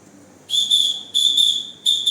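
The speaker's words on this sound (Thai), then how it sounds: "ต่อไปเป็นสัญญาณเสียงสั้น" Three short, shrill traffic whistle blasts, the last one cut off at the end, sounding close with pauses between them and nothing else under them.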